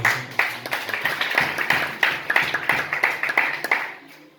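A church congregation claps in a steady rhythm, with distinct, evenly spaced hand claps heard close and strong, fading out toward the end.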